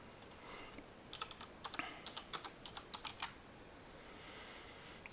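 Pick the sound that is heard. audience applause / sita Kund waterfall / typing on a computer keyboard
typing on a computer keyboard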